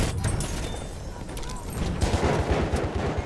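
Battlefield 1 gunfire crackles in rapid bursts, loud and close, with heavy booms mixed in and shouting players underneath.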